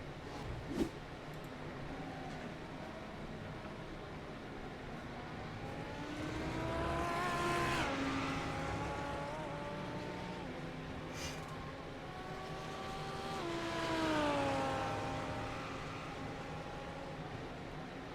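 Porsche GT3 race car at Homestead coming off the banking, passing twice with an engine note that swells and bends downward as it goes by, then fades between passes; no voices.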